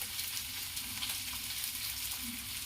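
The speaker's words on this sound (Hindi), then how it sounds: "इसे मैं अच्छी तरह भूनूंगी।" Steady close sizzling of salted potatoes frying in a pan over a medium flame, a continuous crackling hiss with light stirring scrapes and no talking.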